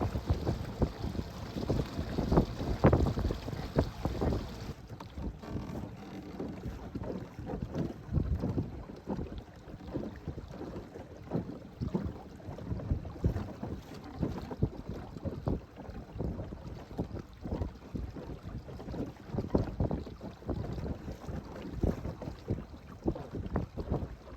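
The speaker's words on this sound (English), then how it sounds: "it's gotten a lot windier probably since I last started this video" Wind gusting across a lake around a small fishing boat, a continuous rough buffeting rush against the microphone with no talk, strongest in the opening seconds.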